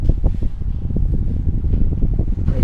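Steady whooshing hum of a ceiling fan running in a room, close and fairly loud, a continuous airy rumble with no talking.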